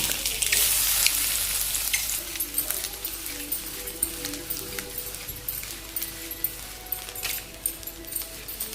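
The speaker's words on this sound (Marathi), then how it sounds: "आता हे फ्राय करून घेऊया आपण" Spices sizzle and crackle steadily in a hot pan, with a spoon scraping and stirring now and then close by.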